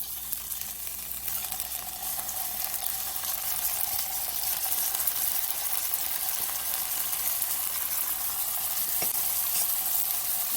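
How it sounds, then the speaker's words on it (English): Cilantro lime chicken thighs sizzle and fry steadily in hot oil in a pan, a continuous loud crackle with occasional pops, no voices. "we've heated our oil here for our cilantro lime chicken thighs. Let's go ahead and drop these on."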